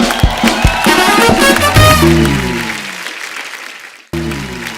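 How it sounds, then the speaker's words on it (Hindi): Studio audience applause for poets at a comedy show, a loud dense burst of clapping over music that fades out, then briefly resumes near the end. "इनके लिए जोरदार तालियां"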